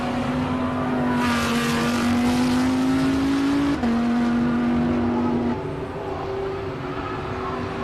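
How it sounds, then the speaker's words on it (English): A Lamborghini Huracan Performante climbing a hill at a hill climb event screams loudly and steadily as its engine pitch rises, briefly dips at a gear change, then carries on climbing before easing off, with no voices over it. "Let's just listen to this Lamborghini."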